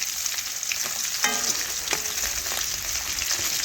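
Katla fish pieces fry in hot oil, crisping to a deep red, with a constant bright sizzle and a few louder spattering bursts and stirring scrapes near the pan. No one speaks.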